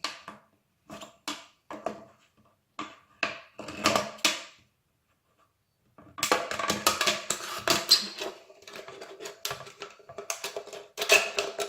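Scissors cut open an aluminium soda can along its side seam, giving sharp crunchy snips: sparse single cuts at first, then a pause, then a denser run of close, rapid cutting.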